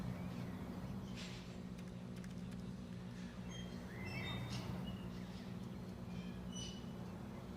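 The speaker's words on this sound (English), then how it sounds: "I don't know if you guys can hear the birds in the background" Small birds chirp faintly in the background at a rallycross track, with scattered high chirps and short whistles over a steady low engine and crowd rumble.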